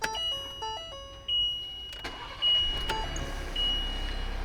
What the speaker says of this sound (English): we're going to start it up and we're going to see how fast the batteries charge